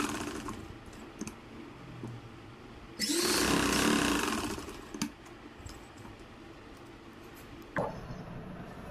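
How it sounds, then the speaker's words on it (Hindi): Sewing machine stitching two pieces of cloth together while reshaping a round neckline, a quiet room with a two-second burst of rapid, close mechanical whirring and clicking amid scattered small handling sounds. "दोनों कपड़ों को एक साथ मिलाकर रखेंगे और सिलाई लगा देंगे।"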